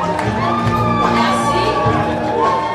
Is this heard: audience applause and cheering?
yes